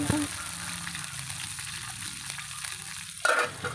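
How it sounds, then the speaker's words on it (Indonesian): Chili paste mixed with shrimp paste frying in oil for sambal terasi, a close, steady sizzle with occasional stirring and a brief clatter near the end. "Lanjut digoreng-goreng sampai matang."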